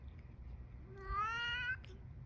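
A single drawn-out cat meow rises and falls over a quiet background hum, fairly faint and heard alone.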